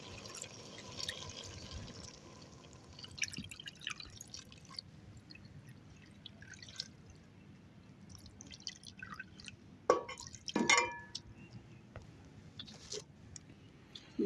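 Water is poured into a pan of mixed vegetables, carrots and peas, cooking over a wood fire in a traditional mud house. Faint dripping and splashing appear, with a brief louder gush near the end, against a quiet background.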